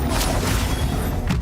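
An Incendio fire spell is cast in Hogwarts Legacy, a loud, full whooshing burst of flame that roars steadily through its short length with a low booming body.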